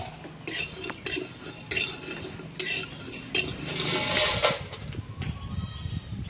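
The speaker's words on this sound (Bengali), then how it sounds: "ধনে, জিরে, একটা তেজপাতা আর গরম মশলা, এগুলো আমি একটু ভেজে নেব।" Coriander, cumin, a bay leaf and garam masala fried in a wok, heard as repeated metallic stirring scrapes and clinks of a spoon against the pan over a soft, quiet sizzle.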